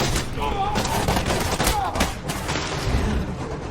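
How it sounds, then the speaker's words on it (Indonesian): Dense gunfire from a firefight in an action film, heard as continuous loud rapid shots and bursts, close and busy throughout the short stretch, with no talking. "Yang lain terlibat dalam baku tembak sengit melawan anak buah McGrath."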